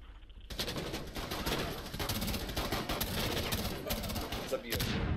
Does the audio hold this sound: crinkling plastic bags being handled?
no